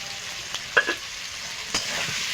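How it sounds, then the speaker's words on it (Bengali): Potatoes with turmeric and salt frying in a pan, a steady hiss of oil broken by a few scattered stirring scrapes and clinks. "আমি আলুটা একটু ভালো করে কষিয়ে নেব"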